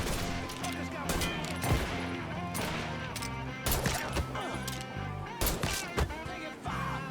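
Heavy gunfire in the Mafia III video game: sustained automatic bursts and sharp individual shots pound steadily over a dense mix of music and background noise, loud and close throughout.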